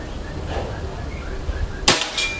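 A single sharp, snappy crack of a PCP Predator air rifle firing a slug near the end, preceded by quiet room noise; a brief second burst follows close behind.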